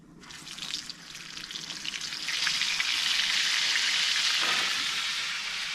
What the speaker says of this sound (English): now we will toss our burgers in. Toss a little bit of seasoning in there with our bacon grease